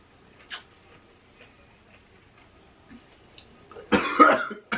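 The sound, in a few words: person coughing while eating pickles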